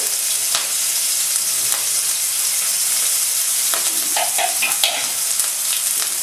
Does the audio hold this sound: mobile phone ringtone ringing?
no